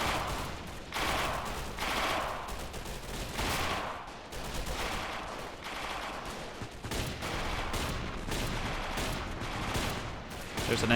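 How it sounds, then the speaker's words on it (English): Rifle and machine-gun fire in a video game battle in a Finnish winter town, with an SVT-40 rifle among the weapons: dense, continuous volleys and overlapping shots at moderate distance, with no quiet gaps. "There's an SVT-40 in action."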